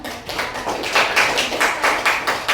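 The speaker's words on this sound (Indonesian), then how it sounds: "Terima kasih tepuk tangan" A group in a classroom or workshop claps in a short, rhythmic burst of distinct, fairly close hand claps with no talking over it.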